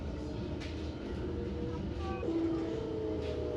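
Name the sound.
Belgian coastal tram (Kusttram) rolling into De Panne station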